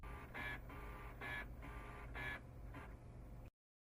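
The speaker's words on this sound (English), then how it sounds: "Wait until the printer turns on and stops making noise." An HP Photosmart 5520 inkjet printer mechanism whirs in repeated pulses as it starts up, about six bursts of motor noise over a steady hum, then cuts to silence.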